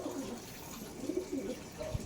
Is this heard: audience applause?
no